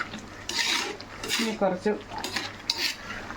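A metal spoon scrapes and clinks against a pot as thick prawn curry is stirred, in a few uneven strokes close by.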